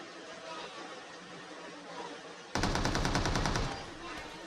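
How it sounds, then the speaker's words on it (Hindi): Rapid automatic gunfire bursts out in a mobile shooter video game, loud and sharply rhythmic for about a second and a half, following a stretch of steady game ambience with a voice faintly in the background. "अबे वो क्या फायरिंग करती है भी"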